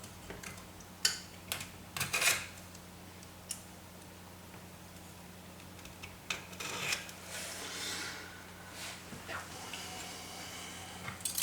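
A knife scrapes enamel lacquer off a length of wire during a regenerative radio build: quiet, intermittent rasping strokes and short scratches over a steady low hum, with no talking.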